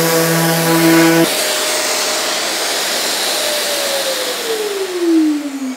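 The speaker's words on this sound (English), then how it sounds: "notice how the extractor started up automatically, and when I switch the tool off, it then switches off automatically as well" A Festool CTM 26 mobile dust extractor runs with a sander on wood, giving a loud, steady whooshing roar. A brief tonal start opens it, and a whine slides downward near the end as the tool spins down.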